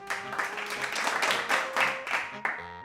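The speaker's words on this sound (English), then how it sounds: "A round of applause for Lou." A short burst of clapping in a home sewing setting, the claps coming in brief uneven surges over a sustained musical tone before cutting off near the end.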